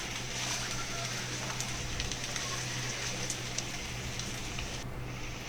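Chicken pieces frying in hot oil in a pan over low heat, a steady, dense sizzle and crackle that stays even throughout, close by with no voices.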